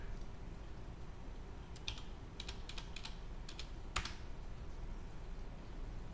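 Numbers typed on a computer keyboard, a few short clusters of light clicking keystrokes over a quiet background hum, close but soft, with no talk.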